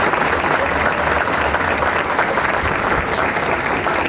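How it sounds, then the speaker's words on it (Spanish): Hall audience at a civic anniversary ceremony applauding school representatives, a continuous, even roar of many hands clapping at close range, loud and unbroken for the whole stretch. "Felicia Banat y que está presente, a cual le pido un fuerte aplauso en representación de Rocha"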